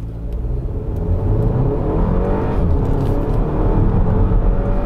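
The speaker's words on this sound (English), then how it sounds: "It really gets going. I'm quite shocked at the way it picks up." A Porsche Macan in sport mode, its PDK gearbox in manual, pulls away from traffic lights with a rising, rumbling engine note that builds steadily and stays close and loud throughout, with no voices.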